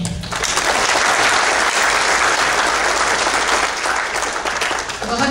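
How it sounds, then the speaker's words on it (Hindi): Enthusiastic applause fills a mushaira poetry gathering at Fun Asia in Richardson, Texas, a dense, loud and steady wash of clapping from a large crowd that lasts throughout without letting up. "पुरजोश तालियों से इस्तकबाल कीजिए हमारे हर उस शोहरे कराम का"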